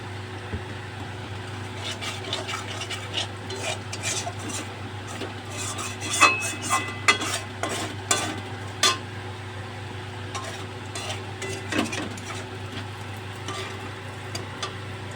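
Oil going into a pan that was earlier used to fry prawns, with metal utensil clinks and scraping as it is stirred, light sizzling faint under a steady low hum, clatter picking up midway.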